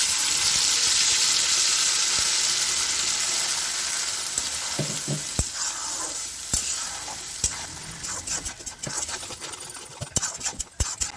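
Tomato, ginger and chili puree sizzles loudly in a frying pan for chhole gravy with no onion or garlic, a steady hiss that eases a little midway, broken by sharp clinks and scrapes of stirring toward the end.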